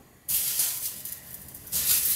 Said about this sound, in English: If you wanna put a little bit of that spray oil, you can